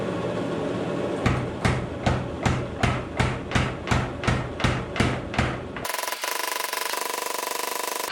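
Hammer forging a Damascus steel bar for a puukko knife: about a dozen evenly paced ringing blows over a constant roaring background, ending in a steady loud hiss.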